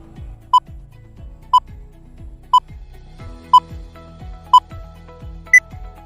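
A quiz countdown timer ticking steadily, six evenly spaced sharp beeps about one second apart over a soft rhythmic background pulse, the last beep slightly higher in pitch.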